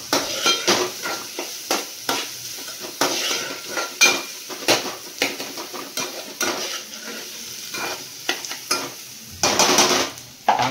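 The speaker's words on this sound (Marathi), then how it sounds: "हे टाकलं, हे सर्व ढवळून घ्यायचं एकत्र." Spoon scraping and stirring an onion mixture in a pan for shev bhaji, a quick irregular run of clinks and scrapes close up, with light sizzling underneath and no talk.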